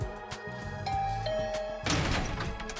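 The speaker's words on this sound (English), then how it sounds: "I rang the doorbell and waited." A doorbell rings in the video game The Hundred Line: Last Defense Academy, a two-tone chime with a ringing sustained tail, followed by a louder clattering burst, with no talk.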